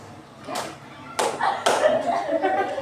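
Hand clapping in a classroom concentration game with children: three sharp claps spaced roughly half a second apart, close and distinct, with soft room noise and murmuring in between.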